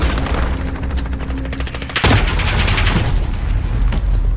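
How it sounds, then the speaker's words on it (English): Rapid gunfire in the video game Modern Warfare, with bullets striking a metal pole; a dense burst of shots ends in a sharp loud impact, followed by ongoing noisy rumble. "Bullets hit a pole or something."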